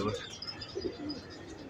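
Soft, low pigeon cooing murmurs through a busy backdrop of other birds chirping, with no clear talking.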